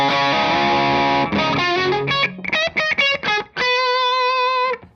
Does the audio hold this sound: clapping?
no